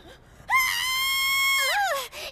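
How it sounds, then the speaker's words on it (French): A high, sustained scream in the French-dubbed trailer for the Miraculous animated film, loud and held for about a second and a half before breaking into a wavering cry, with a brief sound afterward. "J'avais oublié que ça crie toujours à ce moment-là."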